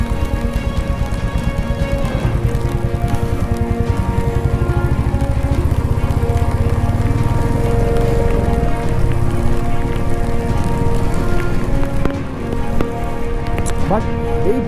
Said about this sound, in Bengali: বিশেষ করে মানে এত বৃষ্টি হচ্ছে, ড্যামটা দেখা যাচ্ছে না